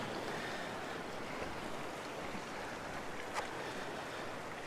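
Ocean waves on a rocky seascape coast, a steady broad wash of surf and wind noise throughout, fairly close and continuous with no talking.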